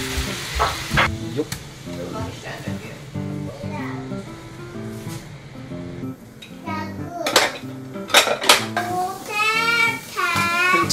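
Vegetables sizzle and clatter in a frying pan as they are stirred, with metal utensil scrapes over steady frying, while people talk and a voice rises nearby.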